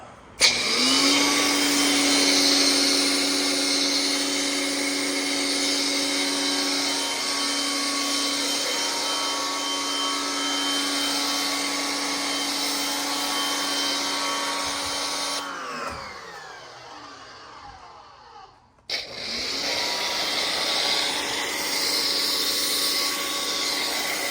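A car-wash foam cannon on a quick-connect fitting sprays in a loud, steady hiss with a constant mechanical drone, cuts out briefly near the end, then resumes spraying.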